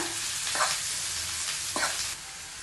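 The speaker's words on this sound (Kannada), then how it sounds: "ಲೋ ಫ್ಲೇಮಲ್ಲಿ ಚೆನ್ನಾಗಿ ಇದನ್ನು ಫ್ರೈ ಮಾಡ್ಕೊಳ್ಬೇಕು" Sliced onions fry over a low flame in a pan for a North Karnataka village onion curry, with a steady close sizzle and two spatula stir strokes, no talking.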